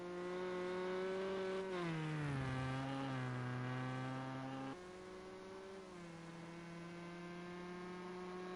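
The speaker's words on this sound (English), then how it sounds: "Sounds like that Ford's also not going at top speed." A Ford race car engine holds a steady, moderate tone during the Le Mans endurance event, easing off and settling without reaching top speed. It plays alone as a continuous, fairly faint hum.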